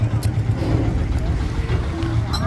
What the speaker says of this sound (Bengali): এখন এই বোটটা আসছে